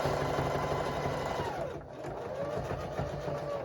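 A sewing machine runs a continuous zigzag stitch along a jelly roll farmhouse rug, a steady fast mechanical whir with a brief dip in speed midway, heard close and fairly quiet.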